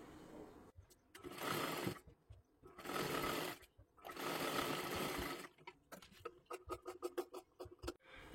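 A sewing machine stitches a sleeve seam in three long steady runs, then breaks into a string of short, rapid stop-start bursts near the end, close up with no talking.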